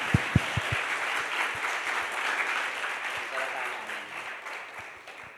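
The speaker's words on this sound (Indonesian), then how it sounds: "Kasih aplaus dulu teman-teman." Audience applause at a religious study opening session, a sustained broadband patter of many hands clapping, moderately loud and steady, with a few sharp low thumps at the start.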